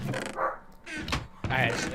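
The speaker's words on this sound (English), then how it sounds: "Of course, my dog decides to bark." A pet dog barks a few times in short bursts close by during a Minecraft FTB Regrowth play session, with people talking over and between the barks.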